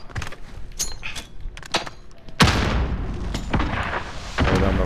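A grenade explosion in a video game, a sudden loud boom midway that leaves a dense rumbling roar, after scattered sharp gunfire-like cracks earlier.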